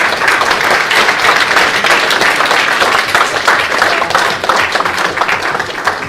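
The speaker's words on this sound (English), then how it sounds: "Big round of applause for our panelists" A live audience applauds panelists at a livestreamed event, with loud, dense, sustained clapping that fills the whole stretch without any speech over it.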